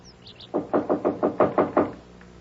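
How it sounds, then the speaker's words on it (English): Seven heavy, evenly spaced knocks bang on an apartment door off a balcony, loud and close, in a steady insistent rhythm with nothing else over them. "this guy is on the balcony in front of 2A, banging on the door"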